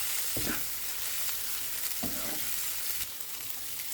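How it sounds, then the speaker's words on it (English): Cooked rice stir-fried in a pan and pressed down while flipping, a steady sizzle underneath with two distinct scraping, pushing strokes of the utensil about a second and a half apart, close and alone with no talking. "Now add the rice and mix well"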